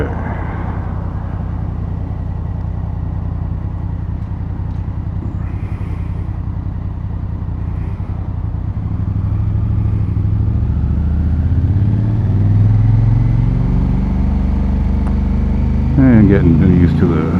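A Honda Africa Twin motorcycle rolls along at slow speed, its steady low engine drone rising slightly toward the end, with a rider talking over the rumble and wind.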